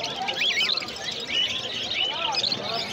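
Dense, close chirping and tweeting from a crowd of cockatiels, lutino and pied, caged at an exotic bird market, with busy chatter running continuously and voices mixed in.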